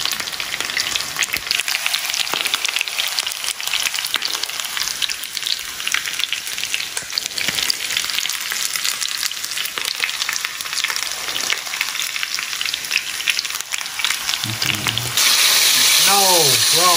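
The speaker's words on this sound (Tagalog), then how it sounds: "Ganito lang ating gagawin sa mga natitira pa natin, mga pipirituhing chicken leg." Chicken legs frying in oil, inasal style, crackle with a dense, continuous sizzle, loud and close throughout, with brief stirring and a sharp change in tone near the end.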